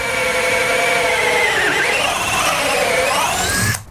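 Power drill boring around screws in the wall of a horsebox, a loud continuous high whine that steadily shifts pitch as the bit works, cutting off abruptly near the end.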